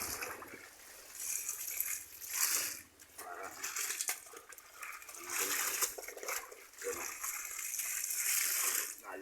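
Water gushes strongly from a motor-driven pump during laundry washing, a loud continuous splashing rush that swells and eases, with a voice speaking now and then.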